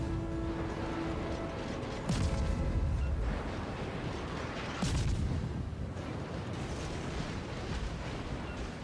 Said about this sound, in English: Bismarck again shooting me.